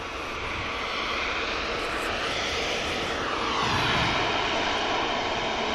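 Korean Air jet departing Manchester Airport, a steady broad engine roar swelling slightly as it climbs out, heard from a distance with no talk over it.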